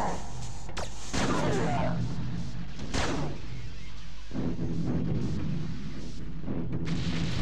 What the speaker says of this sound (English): fire off a few shots until we get them